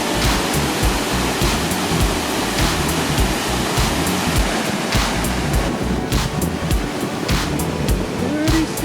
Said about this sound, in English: Pretty incredible waterfall.